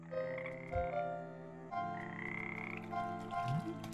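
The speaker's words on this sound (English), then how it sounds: "Is that a golden frog?" Croaking of a frog creature in the video game Frogmonster, a series of deep, resonant croaks with layered tonal calls, loud and close, with no talking.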